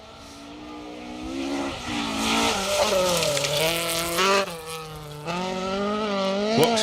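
A rally car races along a stage of the Plains Rally in the Pirelli Welsh Rally Championship, its engine rising and falling through gear changes as it approaches and passes, fairly loud.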